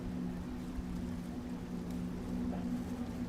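XCAT racing powerboats run on the water at the Dubai Grand Prix, heard as a faint, distant, steady engine drone with a low tonal hum and no clear changes.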